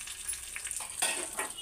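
Garlic, curry leaves and chili powder sizzle in hot oil as a tempering for dhaba-style dal tadka, a faint crackling hiss with a few brief stirring bursts, alone and close.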